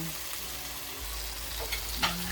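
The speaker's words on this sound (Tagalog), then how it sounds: "Ginisa ko, sibuyas, bawang, kamatis. Lutuin natin tong mabuti." Onion, garlic and tomato sautéing in butter in a pan, a close steady sizzle with a few clattering stirs of a utensil near the end.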